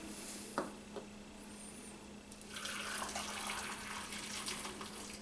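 Liquid brine is poured into a jar of quail eggs for pickling. After a couple of small clinks, a steady splashing pour starts about halfway through and continues close by.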